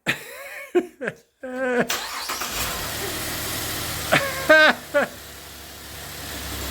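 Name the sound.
car engine starting after spark plug change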